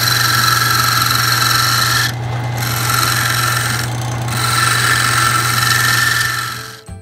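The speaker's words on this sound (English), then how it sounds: "I'm going to use the skew to clean it up." A skew chisel cutting spinning wood on a Craftsman wood lathe gives a loud, close, continuous squealing scrape over the motor hum, with two brief lighter moments as the tool eases off.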